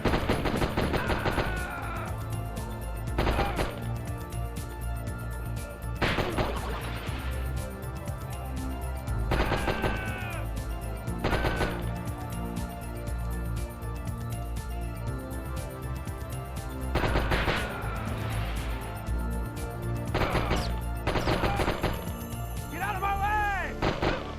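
Repeated bursts of loud gunfire crackle through a shootout in the Die Hard Trilogy video game as shots are aimed at a Christmas tree, volleys recurring every few seconds over a steady backdrop of game music and effects.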